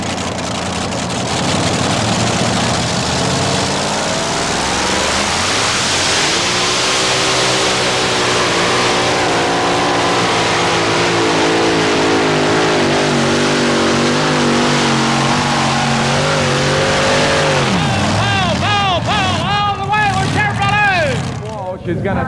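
A two-wheel-drive super modified pulling truck with a Racing Aries engine at a truck pull roars loudly, its pitch climbing steadily through a long run before dropping off, with crowd and announcer noise beneath.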